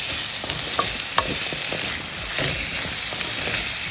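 Ingredients for a tomato kurma sauté in a pan with a constant sizzle, while a spoon scrapes and taps the pan in irregular strokes close up.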